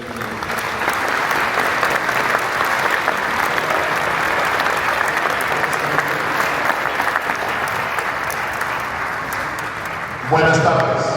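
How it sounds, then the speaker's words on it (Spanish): A large seated audience applauds steadily at a live conference to welcome a speaker onto the stage, dense clapping sustained for about ten seconds before it cuts off into a louder close sound at the end. "Recibamos con un fuerte aplauso"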